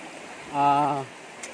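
A river stream on a Philippine farm lot near a waterfall flows with a steady, soft wash, and a brief voice rises over it midway.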